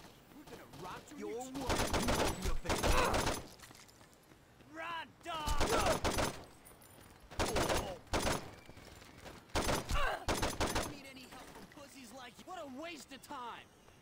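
Bursts of gunfire from the video game Saints Row 2, loud clustered volleys and rapid automatic fire repeating in several bouts across the stretch, with someone talking between and over the shooting.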